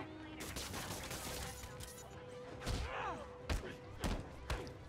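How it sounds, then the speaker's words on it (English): Gunfire from a pistol in Spider-Man Remastered, heard as a few sharp, loud shots spaced across a busy game soundscape, with voices talking in the background. "Dude, you pulled out a gun and shot at me for no reason."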